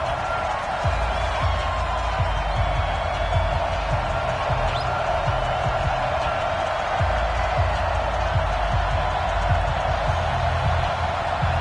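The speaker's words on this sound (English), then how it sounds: "this crowd is pumped up" A stadium crowd roars in an EA Sports NFL football video game as the Redskins take the field against the San Francisco 49ers, a steady, dense wash of cheering that holds without a break throughout.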